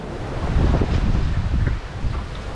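Strong wind roars across the microphone aboard a sailboat making about 6.5 knots toward the Isles of Scilly, with 12 to 15 knots of breeze forward of the beam; steady, loud gusting buffet with water rush beneath, no voices.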